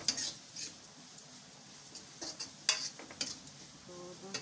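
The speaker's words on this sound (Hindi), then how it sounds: "अच्छे से इसको मिक्स कर देंगे मसाले में" Ridge gourd peel being stirred into spices in a pan, giving a series of short scraping and clinking strokes over a faint sizzle, fairly quiet and close, with no talking.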